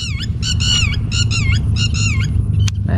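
A bird gives repeated sharp, squawking calls in quick bursts, loud and close over a steady low background rumble.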